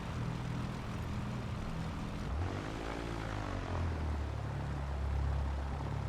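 Propeller aircraft engine drones steadily in the X-Plane 11 flight simulator as a small plane comes in to land at a bush strip, a continuous loud hum with a rising and falling pitch sweep partway through.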